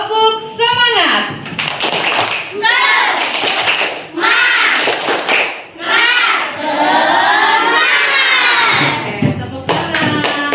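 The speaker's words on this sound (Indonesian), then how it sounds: "Tepuk semangat" Classroom children doing a rhythmic clapping chant, bursts of claps alternating with loud group chanting voices in a patterned cadence, close and energetic.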